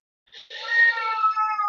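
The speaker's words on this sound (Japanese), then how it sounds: "ごめんなさい、猫がうるさいけど。" A house cat meows, one loud, sustained, rising cry close by, heard alone in a quiet room.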